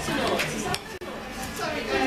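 Clinking of a utensil against a plate or board, with scraping sounds of food being cut, heard close by over background chatter on a train.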